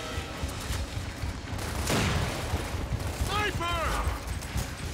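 Rapid gunfire crackles in the video game Gears of War, bursts of shots and a louder blast mixed with game effects, heard close and continuous under other game sounds.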